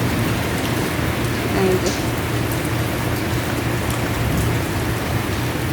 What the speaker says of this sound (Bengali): আর এই যে প্রত্যেকটা পাতায় পাতায় বৃষ্টির ফোঁটা।